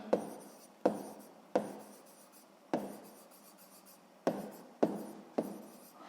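A pen scratches across paper while someone works a sixth-grade math exercise, sounding as a series of short, close strokes, each starting with a sharp tap and fading, with brief pauses between them.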